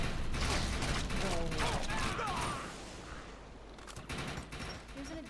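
Rapid assault rifle gunfire in the co-op shooter ChaosNova, sustained bursts that crackle loudly at first and then thin out into scattered shots, mixed with game effects and voices.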